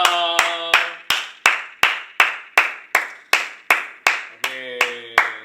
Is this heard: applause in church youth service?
yes